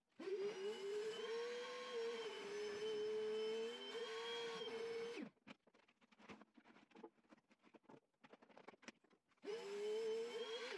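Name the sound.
Einhell TC-VC 18/20 cordless vacuum cleaner running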